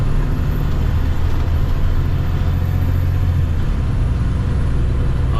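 A 2010 International 7600 dump truck with a Cummins engine drives along, its steady low diesel rumble and drone filling the cab continuously, with a brief shift in tone near the end and no talking.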